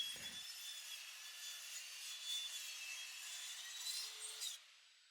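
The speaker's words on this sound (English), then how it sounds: "So I sanded and trimmed it again." Steady abrasive rubbing of sandpaper on hard maple wood, close and continuous for several seconds before stopping abruptly.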